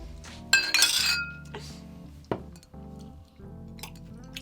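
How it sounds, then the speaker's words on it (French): Glasses clink together in a toast, with a bright cluster of ringing chimes followed by a few quieter, scattered taps. "Oh, allez, on trinque."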